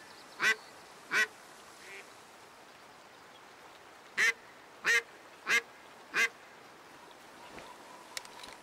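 Ducks in the hunting game Way of the Hunter give six sharp, clear quacks, two early and four in a quick cluster later, over a quiet outdoor background.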